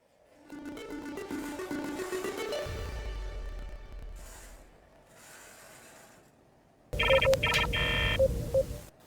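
Telephone dialing tones in a Star Trek themed live show, with mechanical clicking and whirring at first, then a quiet pause, then a loud run of bright keypad tones near the end.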